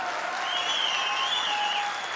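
Applause from an audience at a large health-company gathering in Pune, a dense, steady wash of clapping throughout with whistles or cheers riding over it.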